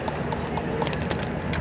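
Racehorses gallop along a race track, their hoofbeats a rapid, steady clatter over a dense crowd-like background rumble, moderately loud and close.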